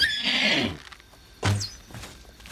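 A paint horse in the video game Oblivion gives a loud, close whinny, then a second short snort-like neigh a moment later, with no talk over it.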